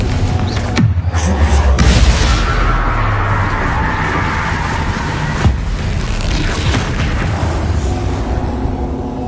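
A Confringo spell blast in Hogwarts Legacy on PS5, heard as a loud booming burst near the start, with a second sharp crack around the middle over a dense, continuous rumble of game effects.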